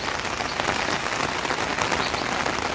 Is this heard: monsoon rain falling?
yes